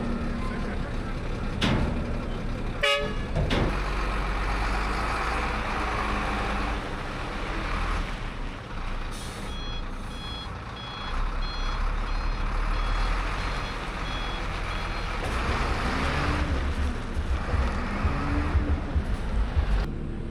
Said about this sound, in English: you can see the compaction work taking place with heavy rollers operating in sequence